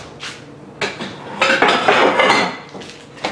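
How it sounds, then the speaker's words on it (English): Sliced zucchini noodles tumble into a bowl, with several clattering dish and utensil knocks and clinks, the loudest burst in the middle, close and clear, with no talking. "And then we're gonna add those to a bowl"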